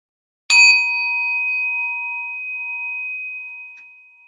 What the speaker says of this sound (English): I will ring the bell to bring us back into the virtual room.